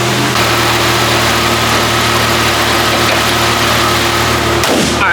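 A vehicle's engine runs steadily while driving down the road, giving a loud, continuous hum with a constant drone throughout and a brief shift near the end.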